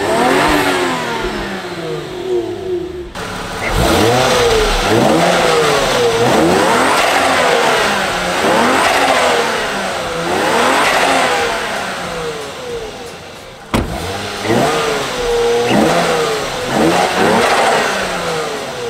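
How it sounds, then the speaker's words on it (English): A car fitted with an aftermarket HKS exhaust revs hard in repeated rising and falling pulls, loud and close throughout, with a brief drop near the start and a sharp break partway through. "So I'm gonna rev it up a little bit higher this time and see if we can really kind of notice a difference."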